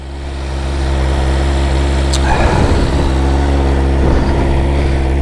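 A BMW S1000RR sports bike on its standard exhaust pipe idles with a steady, close low engine hum, a brief blip of revs lifting the note partway through before it settles back.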